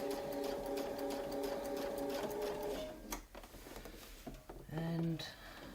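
A sewing machine stitches a quilted wreath guided by a Westalee ruler, running as a steady close whir for about three seconds. It then stops, and short clicks and handling noises follow, with a brief motor burst near the end.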